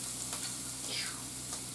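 Steady sizzle of a hot pan being deglazed after frying chicken, a continuous hiss with a faint stir or scrape partway through.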